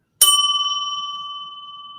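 A single bell strike rings out clearly, a sharp metallic hit followed by a pure sustained tone that slowly decays alone in silence.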